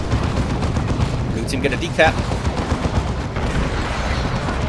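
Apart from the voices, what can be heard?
bolter gunfire in video game Dawn of War 2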